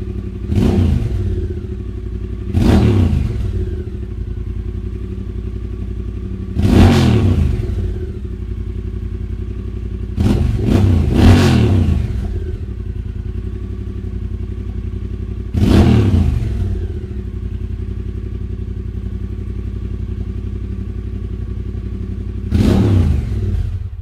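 Triumph Bobber motorcycle engine idling with its catalytic converter still fitted, a steady low rumble broken by several loud revs at irregular intervals, close to the microphone and with no talk.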